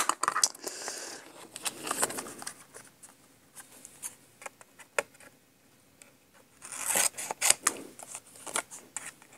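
Scissors snipping through a paper index card, close and fairly quiet, with bursts of rapid crisp cuts at the start and again near the end separated by a quieter stretch of light rustling.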